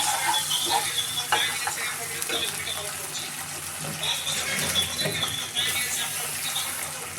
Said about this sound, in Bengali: তেল দিয়ে দিলাম, পেঁয়াজ ভাজা ভাজা হয়ে গিয়েছে, তো আদা রসুন দিয়ে দিলাম।